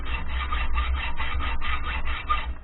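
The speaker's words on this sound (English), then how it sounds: "you want to hacksaw down about the thickness of the metal that tennon's made of" A hacksaw cuts into a metal gun barrel tenon at close range with steady back-and-forth rasping strokes, about two per second, loud and even, with no voices.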